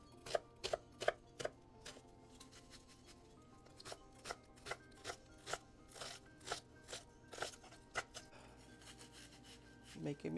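A knife chopping onions and celery on a board, with sharp, close cuts in irregular bursts over about ten seconds and no talk.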